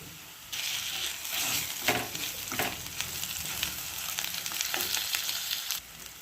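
Onions and ginger paste fry in hot oil for a crispy potato fry, giving a steady, close hiss with scattered crackles and a few louder spatters, cutting off briefly near the end.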